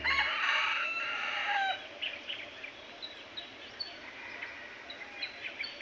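A wild junglefowl (labuyo) rooster crows once, loud and close, for under two seconds, then short fainter chirps and bird calls follow outdoors.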